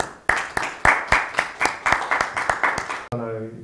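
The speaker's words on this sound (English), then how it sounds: "I hope you guys can also give a round of applause to Professor" A single person clapping near the microphone for a professor at an academic awards closing ceremony, about a dozen sharp, evenly spaced claps that slow slightly, followed by a short tonal sound at the end.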